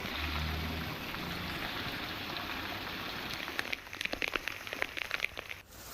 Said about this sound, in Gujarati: ખીરસરા અને આસપાસના વિસ્તારોમાં ધોધમાર વરસાદ પડ્યો છે